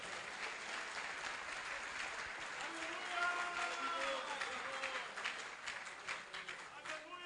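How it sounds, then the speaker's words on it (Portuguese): A church congregation applauds during a sermon, a broad sustained wash of clapping heard from a distance, fairly faint and even for several seconds. "Quem para aplaudir o Senhor Jesus?"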